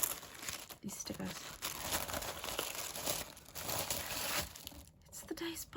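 Wrapping paper is torn and peeled off a parcel holding a dice box, with steady crinkling and tearing that carries on throughout at close range and moderate volume.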